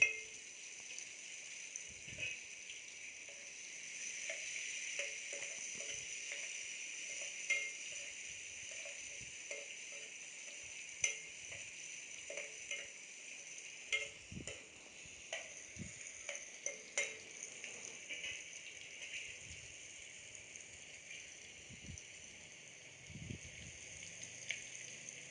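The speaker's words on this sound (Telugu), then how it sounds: "ఉల్లిపాయలు వేసేసుకుందాం అదే ఆయిల్లో." Onions frying in oil in a home kitchen pan, a faint steady sizzle with scattered soft clicks and stirring taps throughout.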